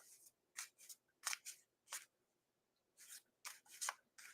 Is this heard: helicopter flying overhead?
no